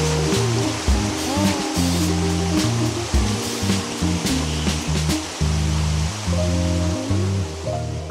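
Rushing water at Erawan waterfall in Thailand, a steady broadband roar that fills the scene, with speech-like voices or music-like tones layered over it throughout.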